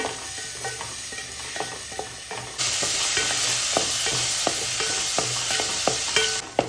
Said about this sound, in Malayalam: നന്നായിട്ട് വഴറ്റിയെടുക്കാം കേട്ടോ